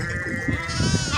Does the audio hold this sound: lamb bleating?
yes